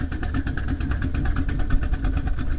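Engine of a 1968 Pontiac hot rod runs close by as it is put in gear, a loud lumpy idle with a rapid pulsing throb and no talk over it.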